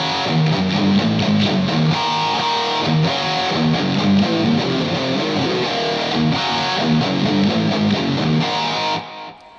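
A distorted electric guitar plays a blues-based chord riff in E in 7/4 time, loud and close, chugging repeated figures with accented chords, ending abruptly.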